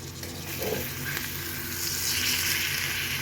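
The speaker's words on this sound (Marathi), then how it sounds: "आता असेच परतून घ्यायचे" Chicken or mutton liver stir-fries in an uncovered pan over medium gas, giving a dense, steady sizzle with soft stirring scrapes that swells slightly toward the end; no talking.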